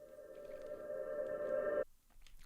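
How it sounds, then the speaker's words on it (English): A reversed reverb riser built from a contact sound swells steadily with a bright ringing tone for under two seconds, then cuts off abruptly, leaving faint residue. "It's a really easy way to make a riser."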